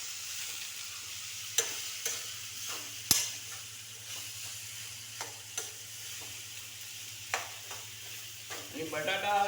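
Potato bhaji being stirred in a pan: scraping spoon strokes at intervals over a faint, steady sizzle, with speech coming in right at the end.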